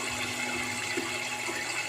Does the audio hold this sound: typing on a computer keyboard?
no